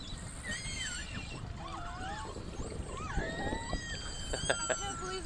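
Beluga whales vocalize near a boat with a rising and falling series of whistles, squeals and chirps, some brief and sharp, over steady water and engine noise.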